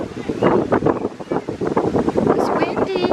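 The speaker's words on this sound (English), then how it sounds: "It's windy." Gusty outdoor wind buffets the microphone at a theme park, rising and falling in rough bursts with faint voices underneath.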